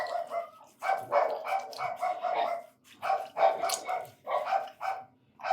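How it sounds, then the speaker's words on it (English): A dog barks repeatedly in bursts of several sharp woofs, fairly close, with short pauses between volleys and no talking. "I don't know what the heck the dog's barking about."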